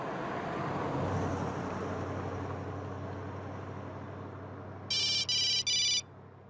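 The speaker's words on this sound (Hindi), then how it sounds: "ठाकुर साहब का फोन आया था" A telephone rings in three quick electronic bursts near the end, cutting clearly through a steady background rumble of road traffic.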